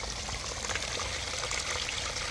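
Water gushes steadily out of the discharge hose of a Drummond 1/4 HP submersible sump pump, a continuous, moderately loud splashing stream with no talk over it.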